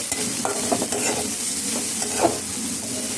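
Butter sizzles in a pan for pasta as a utensil stirs and scrapes through it, a close, continuous frying hiss with light clinks.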